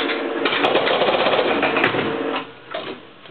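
A 1950 shuffle alley bowling machine, started with a dime, brings its pins down with a rapid mechanical clatter and chattering relay clicks that run for about two seconds, then slow into a few separate knocks.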